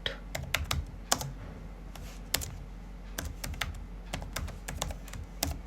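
Computer keyboard typing of an SQL subquery, quick irregular bursts of close key clicks with brief pauses, steady and alone.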